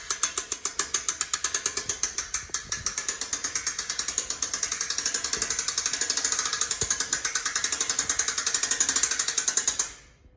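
The gearbox on a gantry crane, which had failed, ratchets as a lever lets the load down: rapid, steady, evenly spaced metallic clicks, loud and close, running about ten seconds before stopping.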